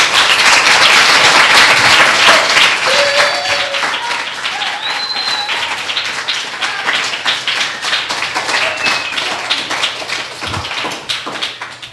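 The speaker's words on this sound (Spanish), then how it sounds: "le vamos a dar un fuerte aplauso a Felipe" Children at a 2014 summer camp in Villapresente applaud loudly, a dense burst of clapping that stays strong then gradually thins into scattered claps with a few distant voices.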